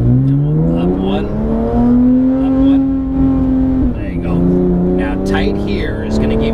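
A Porsche GT3 RS engine roars loudly as it accelerates on a track, pitch climbing through gear changes, with someone talking over the engine noise throughout.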